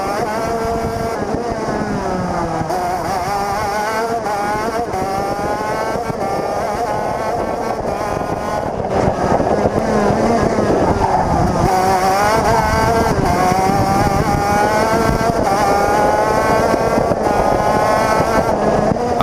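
A racing kart engine heard onboard during a race, a loud, buzzing two-stroke whine that rises and falls steadily through the gears and braking for about twenty seconds. It stays close and constant, with no voices.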